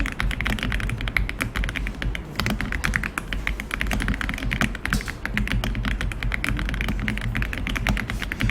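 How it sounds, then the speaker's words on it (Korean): Rapid, continuous clatter of typing on a computer keyboard with Enter and Tab presses, loud and close, the keystrokes coming in quick irregular bursts with no speech. "그 다음에 엔터하고 탭 눌러서 오른쪽으로 보내줍니다"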